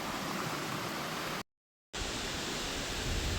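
Constant rushing roar of the small Chet Khot waterfall in Chet Khot-Pong Kon Sao National Park, Thailand, loud and unbroken except for a brief half-second dropout of total silence midway.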